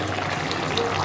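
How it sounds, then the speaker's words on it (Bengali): Water poured steadily into sautéed spice masala in a pan for paneer veg biryani, a close, continuous splashing rush with no voices. "পরে জল দিয়েছি।"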